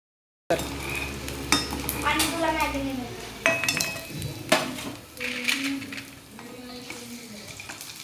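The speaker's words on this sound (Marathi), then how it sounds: "आता हे चकले आपण तळून घेऊ।" Chakli deep-fry in hot oil for sabudana chivda, giving a close, steady sizzle with intermittent clinks and stirring scrapes of a utensil in the pan, and a voice speaking at times over the frying.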